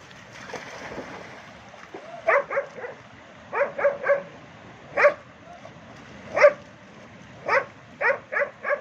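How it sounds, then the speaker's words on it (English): Dogs bark on a beach in a string of short, sharp barks and yips. They come in clusters of two or three at moderate distance, with quiet gaps and faint background noise between them. "Look at that dog."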